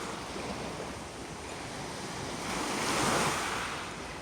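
Sea waves wash onto a shore at sunset, a broad steady surf roar with light wind across the microphone, swelling as a wave breaks near the end.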